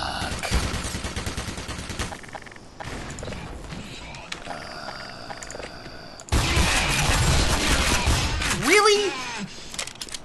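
Shotgun blasts and combat noise in the game Black Mesa, loud booming shots and crashes in rough bursts across ten seconds, with someone briefly speaking over them.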